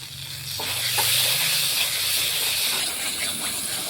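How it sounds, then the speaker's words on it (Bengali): Chopped tomatoes fry with spices in a pan, giving off a loud, continuous steamy hiss with occasional stirring scrapes close by. "মশলার সঙ্গে টমেটোগুলোকে ভেজে নিলাম ভালোভাবে"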